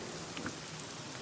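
Steady, soft rain hisses throughout in the horror video game Home Sweet Home 2, a faint continuous patter with no other clear sounds.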